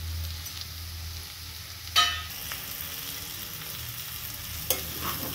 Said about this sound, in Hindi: ऐसे ही खुले में थोड़ा 1 से 2 मिनट के लिए फ्राई करेंगे